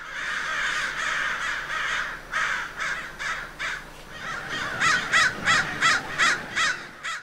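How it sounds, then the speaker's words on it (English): A group of crows caws in repeated harsh bursts, first a slower series of calls, then a louder, faster run of closely spaced caws near the end, with no other sounds competing. "Crows make a caw, caw, caw, and that's their number one call."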